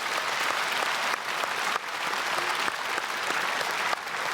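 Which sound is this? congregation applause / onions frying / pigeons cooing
congregation applause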